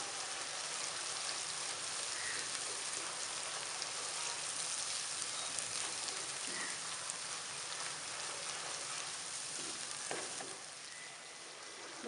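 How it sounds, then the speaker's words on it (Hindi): Tomato paste sizzling in a pan for kofta curry: a steady, close, dense frying hiss that holds evenly throughout and eases slightly near the end, with no talking. "अब इसमें टमाटर का पेस्ट शामिल कर देंगे। इसे भूनेंगे तकरीबन 2 से 3 मिनट।"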